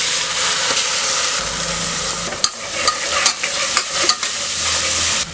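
Onions with a ground ginger, garlic, coriander and mint paste sizzle loudly in a pan for tomato rice, a steady bright frying hiss punctuated by several sharp clinks and scrapes of stirring.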